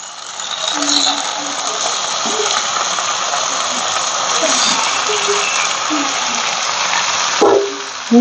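Meat frying in hot oil with tomato and spices for a home-style meat curry, hissing as hot water is poured in: a steady, loud, broadband sizzle and gush that holds throughout and surges with a sharp burst near the end.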